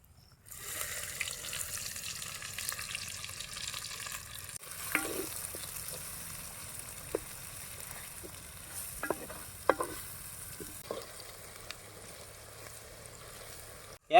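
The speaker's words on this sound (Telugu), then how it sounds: "నూనె అయితే పోసుకుందాం సన్నగా తరిగిన కొన్ని ఎరగడ్లు అయితే వేసుకుందాం" Finely chopped onions frying in oil in a pan, a soft continuous sizzle with occasional sharp clinks and stirring scrapes, heard fairly close with no talking.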